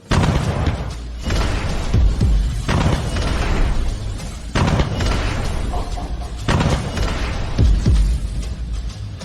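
Sniper rifle shots ring out as heavy, booming cinematic blasts, several in a row with rumbling tails between them, loud and close.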